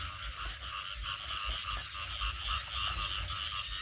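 A chorus of frogs croaks steadily in the rural Isan countryside of Thailand at night after rain, with rhythmic repeating calls layered close and far over a constant low background and no talking.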